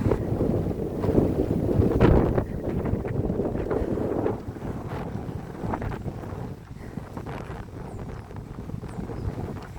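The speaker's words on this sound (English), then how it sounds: "This wind is rough right now." Rough wind buffets the microphone during an outdoor run in a continuous low rumble, stronger at first and then easing, with scattered footfall-like thumps throughout.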